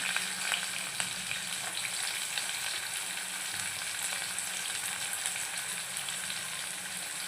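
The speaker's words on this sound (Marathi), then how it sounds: "मसाले झाले की यात आपल्याला कांदा टाकायचा तेजपत्ता" Onion and bay leaf fry in hot spices for mutton paya, giving a steady, close, bright sizzle that runs unbroken throughout with faint stirring scrapes.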